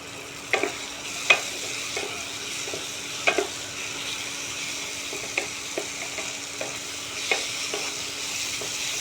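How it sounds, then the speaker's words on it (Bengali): Green peas added to spiced masala fry with a constant sizzle in a pan, broken by irregular sharp scrapes and knocks of stirring, heard up close with no voices. "কষা হয়ে গেছে, কড়াইশুঁটিগুলো দিয়ে দিলাম।"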